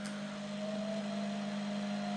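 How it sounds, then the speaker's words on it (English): A spotlight used with a DJI Mini 3 Pro drone gives off a steady, low electrical hum with a faint higher tone above it, constant and quiet throughout, with no talking. "That other noise you can hear is my spotlight."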